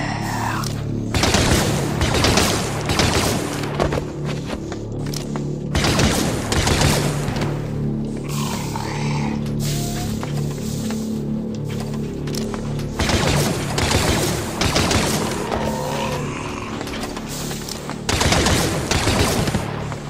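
Rapid automatic blaster fire in the Star Wars: Death Troopers video game comes in loud repeated bursts with short pauses between them, along with booms and mechanical game effects.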